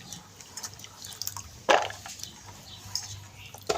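Raw corn is rinsed in water, heard as faint, sparse drips and small splashes close by in a quiet room, with one louder slosh partway through.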